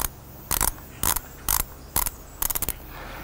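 Ratchet dial on a Fizik X5 Terra mountain bike shoe being turned to tighten, five short bursts of crisp clicking spaced about half a second apart, the last a quick run of clicks, close and alone.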